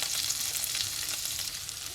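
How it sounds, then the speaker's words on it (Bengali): Medium capsicum and chopped onion sauté briefly in a hot pan for an Indo-Chinese baby corn chili, a steady, close sizzle with light stirring throughout, no voices. "ক্যাপসিকাম আর পেঁয়াজটা নরম হবে না, জাস্ট একটুখানি সটে করবো"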